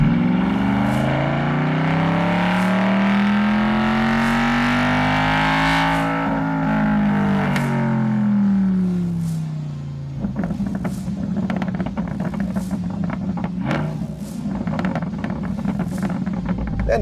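A C8 Corvette under a full-throttle pull revs steadily up toward the rev limiter, the engine note climbing then dropping off, followed by a rougher, lower running sound, heard from inside at moderate level.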